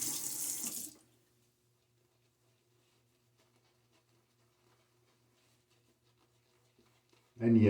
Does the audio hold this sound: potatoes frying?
no